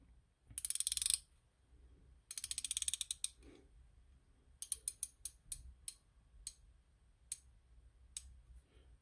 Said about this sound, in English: Fairly easy to ratchet. Obviously, you just flip it.